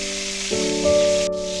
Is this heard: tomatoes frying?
yes